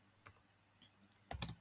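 A few isolated keystrokes on a computer keyboard while entering a command in Kali Linux: one early tap, a soft click mid-way, then a quick cluster of clacks ending with the Enter key, close against near silence.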